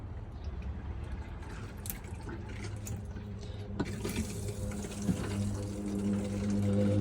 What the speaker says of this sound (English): the pump hasn't got enough water in it to actually pressurise and turn itself off